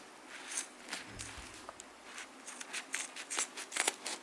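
Scissors snip through fabric in a series of short crisp cuts, irregular and close, in an otherwise quiet room.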